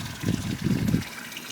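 Water from a garden hose runs into a freshly repainted backyard swimming pool, a soft, fairly faint gushing splash that swells in two short pulses before dying down.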